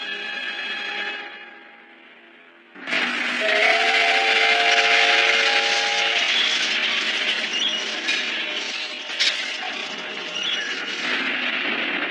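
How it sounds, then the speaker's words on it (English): Animated train passing in the opposite direction: a whistle-like tone fades, then a loud, sustained rushing roar of the passing train bursts in and continues with a brief high tonal whine. "So, relative to the train passing in the opposite direction."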